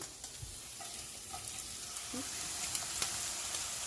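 Tortillas fry in a hot pan with a steady, close sizzle, crackling faintly with a few light scrapes and taps throughout.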